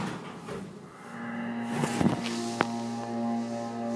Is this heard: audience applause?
no